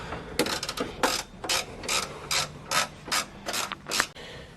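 A hand ratchet tightens a factory bolt on a car's aftermarket X-brace in a garage, about ten quick, evenly spaced bursts of clicking pawl strokes, close and fairly loud with no talk.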